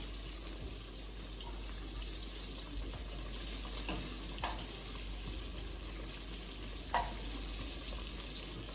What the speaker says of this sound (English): So I'm just gonna let that fry for about